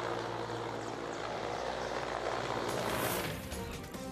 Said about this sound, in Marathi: आकाशात उडणारं हे हेलिकॉप्टर अचानक धुरात गायब होताना या व्हिडिओत स्पष्ट दिसतंय